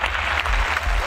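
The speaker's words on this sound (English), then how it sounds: "Let's give them a round of applause." Audience applause, a brief burst of crowd clapping heard as a dense, continuous patter, moderately loud with no talk over it.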